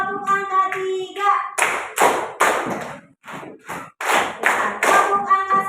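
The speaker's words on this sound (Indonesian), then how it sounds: "tepuk angka 3," Group clapping from a class of students in an Indonesian-language lesson rings out in a run of quick, loud, evenly spaced claps. Chanted voices come before and between the beats.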